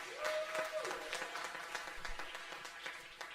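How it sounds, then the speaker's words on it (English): Audience gives a round of applause for event hosts, quiet scattered clapping heard from a distance for a few seconds with a brief tone near the start. "round of applause for Anad and Jeevan, our brilliant hosts."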